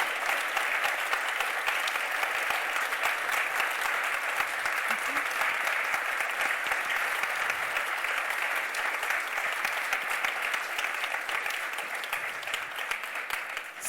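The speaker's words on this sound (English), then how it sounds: "one final time your sound waves in clapping form for our speakers" An auditorium crowd at a public science lecture claps continuously for the speakers, a broad, even wash of applause that fades slightly near the end.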